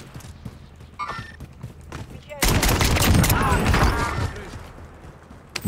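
Rapid bursts of gunfire in the video game Call of Duty: Warzone erupt after a quieter stretch and keep going in dense, loud volleys.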